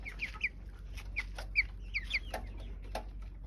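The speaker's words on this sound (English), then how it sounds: "look at my blind chicken" A blind chicken clucking on a farm, a series of short, close clucks in an uneven rhythm over low background rumble, with no talk.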